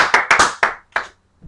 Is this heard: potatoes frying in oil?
no